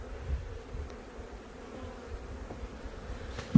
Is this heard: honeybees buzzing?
yes